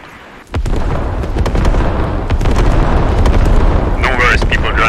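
Artillery explodes in Squad, a military shooter set in Afghanistan's Lashkar Valley: a sudden boom opens into a sustained, loud, rumbling roar of blasts and debris, close and dense, and voices talk faintly over it.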